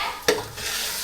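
Mutton stirred in a pot during tempering: a single sharp clatter of a spoon against the pot, then a steady hiss of sizzling oil that carries through the rest of the short moment.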